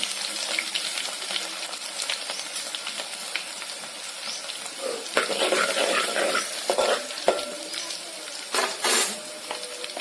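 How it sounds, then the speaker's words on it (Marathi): Garlic frying in a pan while being stirred, a close crackling sizzle with bursts of scraping and hissing that grow louder and busier partway through; no one speaks. "आणि आपलं लसण मस्त खरपूस असं लाल झालं"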